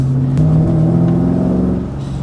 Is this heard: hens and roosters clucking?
no